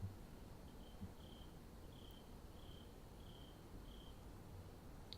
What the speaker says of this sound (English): That was a loud ass cricket.